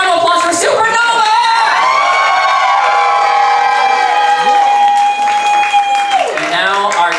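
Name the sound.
audience applause and cheering for a drag contestant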